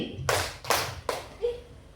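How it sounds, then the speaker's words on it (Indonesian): Two sharp hand claps in close succession, followed by a softer third tap and a brief faint voice, recorded nearby in a room during a group clapping exercise. "Tepuk tangan"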